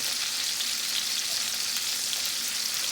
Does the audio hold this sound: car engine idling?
no